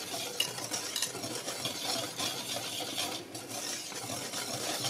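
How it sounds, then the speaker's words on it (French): A wire whisk stirs gluten-free pancake dry ingredients, including xanthan gum and baking soda, in a bowl, giving a steady, close scratchy swishing with faint light clinks throughout. "On mélange le tout avec notre fouet."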